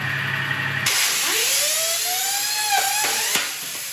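A skateboard wheel spun by an air jet to about 45,000 RPM whines loudly and close, its shrill pitch rising steadily and then dipping, with a steady hiss of rushing air beneath.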